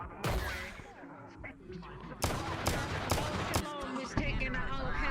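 Point-blank gunshots fired by a biker in green during a VRChat gang roleplay game, a rapid burst of sharp, loud cracks in close succession with a short pause, then more shots over background game noise.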